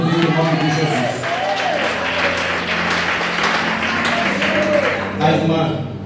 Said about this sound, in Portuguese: Quem pode aplaudir e glorificar o nome de Jesus?